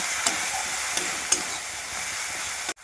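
Mustard and poppy seed masala with pomfret fish is stirred in a hot pan, a steady close sizzle and fry with a few soft scrapes of the spoon, cutting off abruptly at the end.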